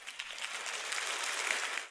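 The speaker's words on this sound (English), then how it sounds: "people clap for this" An audience claps briefly at a religious gathering, a soft, dense patter of many hands lasting about two seconds and heard at a distance before cutting off.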